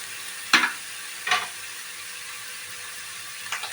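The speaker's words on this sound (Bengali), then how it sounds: "নাড়তে থাকবো" Grated paneer frying in a pan, a soft steady sizzle with three brief scraping stirs of a spatula spaced apart, close, no voices.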